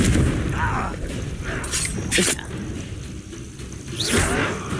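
Explosive Confringo spell cast in the video game Hogwarts Legacy, booming blasts and whooshing bursts amid a busy combat soundscape, with a voice shouting spell names over the effects.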